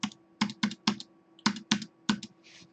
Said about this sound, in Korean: 청약을 누르면 비밀번호를 입력하라고 하죠. 입력해 보도록 하겠습니다.